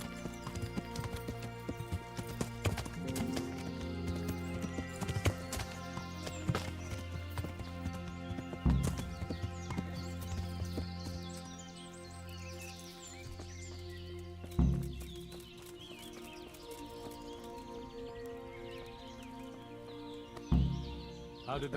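A horse moves in Kingdom Come: Deliverance, its hooves making a faint, rhythmic clip-clop that carries on throughout, with a few sharper thuds standing out against a quiet background.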